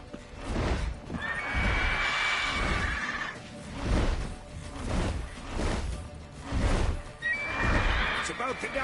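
Horse neighing and whinnying in Witcher 3, with high drawn-out neighs recurring over heavy rhythmic galloping hooves and rumbling movement; a person talks over the action.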